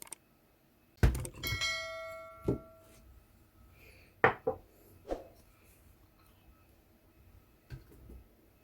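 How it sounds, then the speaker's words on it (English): Several hollow thuds of mango, melon and blueberry pieces dropping into a blender jar, irregularly spaced, with a brief ringing clatter near the start. "Next to go is my mango. After that, my melon and blueberries."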